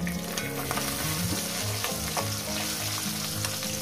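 Bata fish fry in a pan of hot oil, a loud, dense, continuous sizzle heard close up with faint stirring and scraping underneath and no voices.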